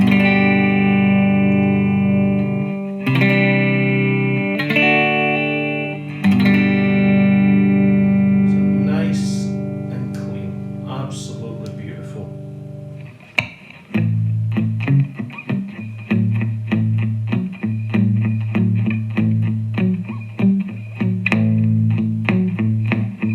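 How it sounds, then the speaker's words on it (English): A Gibson Les Paul Custom electric guitar on the rhythm pickup plays a clean tone through an amplifier, with loud sustained chords that ring out, then a busier strummed and picked passage, and no one talking over it. "I'll just let you hear some clean tones."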